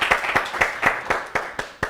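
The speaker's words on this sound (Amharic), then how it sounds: "ለኑሐሚንም አጨብጭቡላት" An audience claps for a young contestant at a televised children's quiz show, a short burst of scattered, evenly paced claps that sounds like a small group rather than a large crowd.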